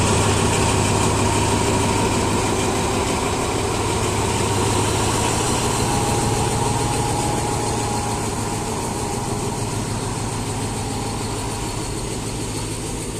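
A heavy locomotive engine idles loudly and steadily, a deep throbbing rumble with a constant hum, close by and uninterrupted, no voices.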